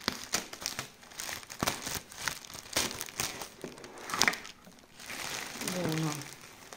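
A Victoria's Secret box is cut open with scissors, with close crinkling and crackling of plastic and paper packaging in irregular bursts, sharp snips and rustles throughout, and a voice speaking briefly near the end.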